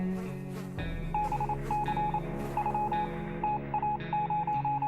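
Morse code radio beeps from the 60 Seconds Reatomized video game, a quick rhythmic series of high tones over a layered musical drone, clear and continuous.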